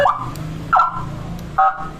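Three short electronic horn chirps sound in an irregular rhythm, close and fairly loud, over a low background hum.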